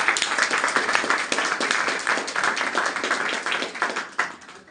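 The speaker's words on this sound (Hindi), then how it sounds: "आप लोग अपने लिए शानदार तालियां बजाएं।" An audience at a corporate motivational event applauds for itself, producing dense, sustained clapping that stays loud and even for nearly five seconds before thinning slightly at the end.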